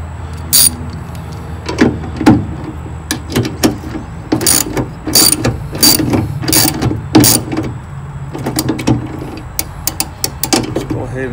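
A ratchet wrench clicks in quick, irregular bursts while snugging a bolt during installation of a hood strut kit on a 1999–2006 Chevy truck or SUV, close and sharp, with someone speaking between strokes.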